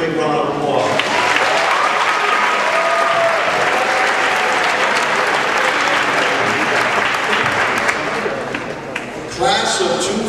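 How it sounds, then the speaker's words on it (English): A large audience at a graduation ceremony breaks into loud, sustained applause, a dense wash of clapping that fills the space before tapering off near the end. "Let's give them a big round of applause."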